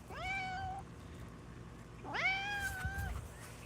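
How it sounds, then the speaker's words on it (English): A cat meows twice, each call a clear, drawn-out tone with a rising start, the second louder and longer after a short pause, close by with faint background noise. "I love this cat."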